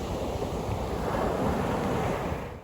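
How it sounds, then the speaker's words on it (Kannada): Sea waves washing onto a black sand beach at Tilmati near Karwar, a steady broad rushing surf with wind noise on the microphone, continuous and fairly close, no voices. "ಸಮುದ್ರದ ಅಲೆಗಳ ಸದ್ದು ಅಂದರೆ ನನಗೆ ತುಂಬ ಇಷ್ಟ"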